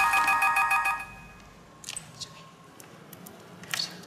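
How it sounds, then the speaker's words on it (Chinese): An incoming call on a phone rings at an army camp: a bright electronic ringtone pulses rapidly for about a second, then cuts off, leaving a quiet room with a few faint rustles and small clicks. "不好意思，我接个电话。"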